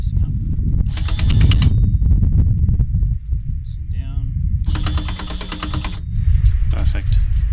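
A newly installed electric anchor windlass on a 37ft sailboat runs in two loud mechanical bursts of about a second each, with ratcheting clatter over a steady low rumble and a shorter burst near the end.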